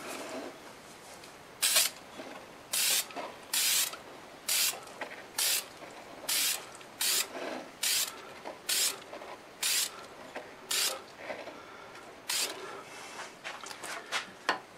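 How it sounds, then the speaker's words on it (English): Deft gloss lacquer sprayed from an aerosol can onto a segmented wood turning, about a dozen short hissing bursts in an irregular rhythm, close and fairly loud with quiet gaps between. "I'm going to use the Deft gloss on it."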